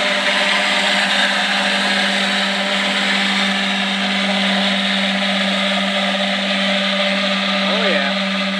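A steady, loud whine and whir from a micro hydro turbine running continuously, with a strong tonal hum and broadband rush, its pitch dipping slightly near the end as it slows.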